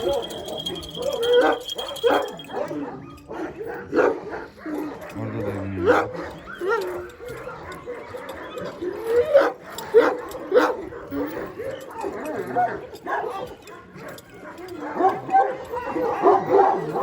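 Several Kangal dogs on a farm bark, yip and whimper excitedly and repeatedly at feeding time, close by, with a person talking intermittently underneath.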